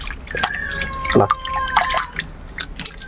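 Peeled cassava being washed in water: close drips and small splashes from a basin, with light clinks, uneven and moderate in level, without voices.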